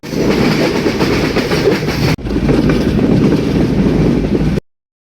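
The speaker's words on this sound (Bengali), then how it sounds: "অবশেষে পনেরো মিনিট লেটে ট্রেন এসে পৌঁছালো" A train on the Jessore to Ishwardi line in Bangladesh rumbles loudly and steadily at the station, its heavy clattering roar continuing without a break except for a brief cut midway, with no talk.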